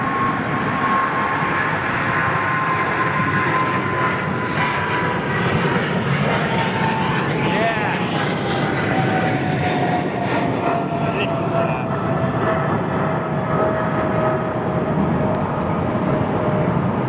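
A Boeing 747 airliner at London Heathrow Airport gives a steady, loud jet roar with a slowly falling whine throughout, and voices talk faintly underneath.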